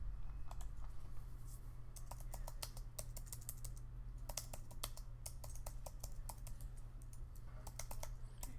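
Computer keyboard typing as client details are entered, coming as quick bursts of light key clicks with short pauses between them over a steady low hum, close and fairly quiet, with no voice.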